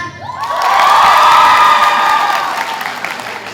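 Audience at a stand-up comedy show bursts into cheering, whooping and applause, swelling quickly to a loud peak and then tapering off over a few seconds.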